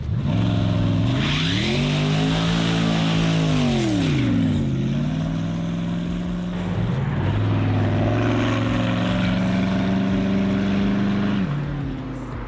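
A Koenigsegg sports car's exhaust drones loudly and continuously, pitch rising and falling as the engine revs up and settles, with no talking.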